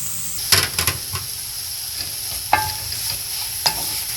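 Shrimp, butter and green onion sizzling in a hot pan, a steady close hiss broken by a few sharp clacks of stirring, with no talk.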